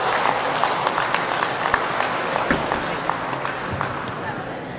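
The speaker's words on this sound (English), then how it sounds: "Let's give Danny another big round of applause." Audience applause at a ceremony at Brooke Army Medical Center, a dense steady patter of many hands clapping that stays loud and even throughout with a few sharper claps standing out.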